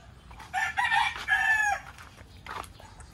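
A white hen clucks and calls loudly near a house in the Philippines, a short burst of squawking notes followed by a fainter cackle.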